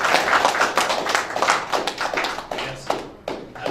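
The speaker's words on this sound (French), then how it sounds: "Avec vos applaudissements" Audience applause closing a workshop, a modest group clapping nearby in an uneven patter that swells and then trails off into a few scattered final claps.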